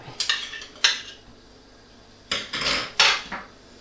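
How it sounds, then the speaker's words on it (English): A spoon stirs tomato puree into steak pie filling in a metal pot, giving a few sharp clinks and scraping knocks against the rim in short bursts, close and alone. "Now we're going to stir in our tomato puree."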